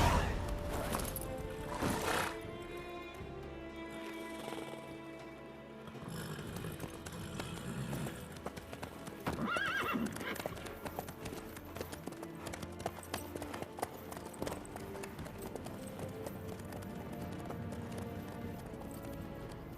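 Horse hooves clip-clopping steadily in The Witcher 3, a continuous trotting rhythm over ambient game music, with an occasional neigh and no talking.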